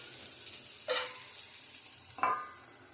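Kothmir vadi frying in hot oil, a soft steady sizzle with two brief louder splashes as the pieces are stirred or turned.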